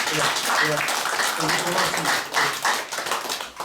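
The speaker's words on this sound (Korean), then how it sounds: "고맙다는 박수 보내주십시오" Dense, continuous applause from a room of about forty-five people after a Korean heritage-society history lecture, filling the space throughout, with a voice speaking briefly over it.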